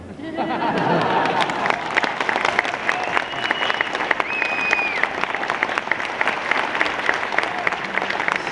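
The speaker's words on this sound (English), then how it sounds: "a big round of applause for John" A convention audience at a sci-fi fan event breaks into sustained applause mixed with cheers and crowd murmur, a thick, continuous wash of clapping that holds steady the whole way.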